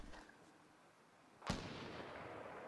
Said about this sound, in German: Aber da hat jemand geschossen